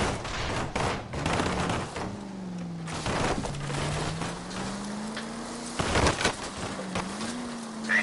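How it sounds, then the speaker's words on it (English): Gunshots in L.A. Noire during a car chase: a handful of sharp, loud cracks spaced irregularly over a steady engine-like hum and rushing noise. "I'll try to shoot out his tires"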